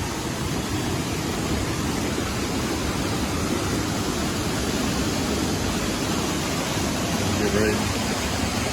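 Kasabangan Falls on Biliran Island, Philippines, a steady broad roar of falling water, loud and continuous without letup.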